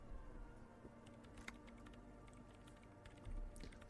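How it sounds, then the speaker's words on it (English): Quiet clicking keystrokes of typing on a computer terminal keyboard in the video game Disco Elysium, a loose, uneven patter of taps over a low background hum. "She's behind the keyboard now, typing in some numbers that only she understands."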